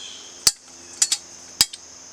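Several short, sharp knife chops on a stainless steel cutting board cutting Spam, four or five crisp clicks spaced irregularly in a quiet room.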